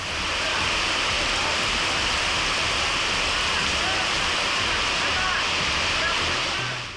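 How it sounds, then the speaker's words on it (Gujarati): Torrential monsoon rain in Gujarat pours down while floodwater rushes along a village road, a dense, constant roaring hiss that stays loud and even throughout. "ધોધમાર વરસાદ પડતા ગામના રસ્તા પર જાણે નદી વહેતી હોય તેવા દ્રશ્યો જોવા મળ્યા"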